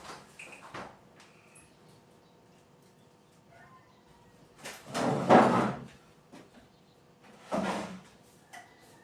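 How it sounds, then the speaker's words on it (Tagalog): Chairs are dragged and shifted across a floor in a home before sweeping, giving a few scraping, knocking bursts, one long and loud, separated by quieter pauses. "Aalisin natin yung mga upuan."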